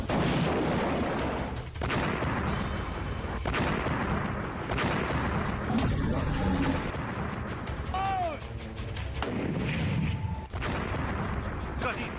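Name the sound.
artillery shell fire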